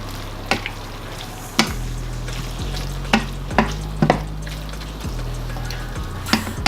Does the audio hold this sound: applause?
no